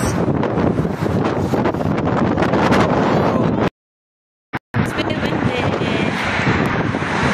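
Loud, roaring wind buffets the microphone in a constant rush, cut by a brief dropout before the gusting noise returns just as strong.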